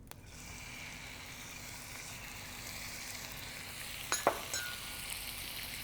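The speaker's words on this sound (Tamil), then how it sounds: "ஆயில் சூடான உடனே துண்டு துண்டாக கட் பண்ண இந்த மட்டனை அதில் போடணும்" Mutton pieces for chukka fry in a little hot oil with a steady soft sizzle. Near the end a brief clink of utensils stirring comes through, and no one speaks.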